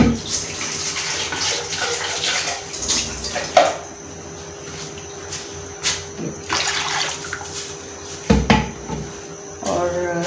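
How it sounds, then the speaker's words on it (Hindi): Water poured into cooking masala for aloo kofta in a pan, with splashing and running water, lid and utensil clatter, and a couple of louder knocks, heard up close alongside brief speech. "थोड़ा पानी हम डाल देंगे इसमें,"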